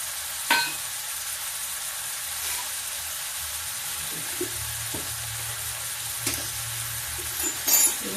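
Masala fries in a pan for a Banarasi chana dal and pumpkin recipe, a steady soft sizzle broken by a few scraping stirs, close and quiet without talk.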